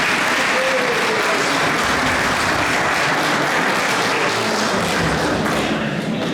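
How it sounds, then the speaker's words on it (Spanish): Sustained applause from an audience at a national Christian church convention, steady dense clapping filling the whole stretch at close range, with no talking over it. "Un aplauso de ánimo a nuestro hermano querido."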